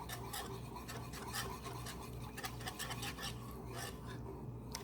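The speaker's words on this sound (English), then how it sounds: "use one of these beaters and then beat it up to blend it and make sure the chocolate is all melted in the bottom" A beater whisks melted chocolate into milk for hot chocolate, giving a steady close scraping, rasping whirr that runs continuously with no talk.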